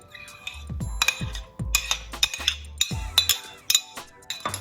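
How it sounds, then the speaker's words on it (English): Tomato being stirred into guacamole in a bowl, with repeated clinks and scrapes of a utensil against the dish in an irregular rhythm, close and clear, with no talking. "now it's time to add the tomato to the mixture"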